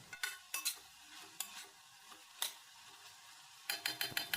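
Cluster beans fry with their tempering spices in a pan and are stirred now and then, the spoon giving short scraping clatters in bursts over a quiet sizzle.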